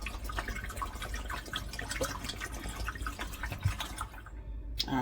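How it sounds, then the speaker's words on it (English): A whole bottle of water poured into a container of fresh pink pineapple flesh, a steady close splashing trickle that runs for several seconds before cutting off near the end. "Let's add a bottle of water."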